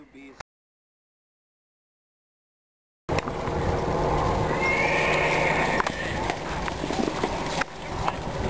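At a St. Stephen's Day blessing of horses in Stranje and Zduša, a horse whinnies once amid an outdoor crowd murmur and the clip-clop of hooves. Faint chatter runs underneath, and a brief blip opens before a short silence.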